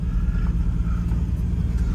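A 1965 Ford Mustang with a 200 inline-six and T5 five-speed driving along, a steady low engine rumble heard from inside the car.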